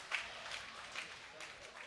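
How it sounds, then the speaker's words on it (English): Crowd at a high school hockey game applauding, a scattered, moderately distant patter of clapping that holds steady for a couple of seconds with no talk over it. "They'll give him"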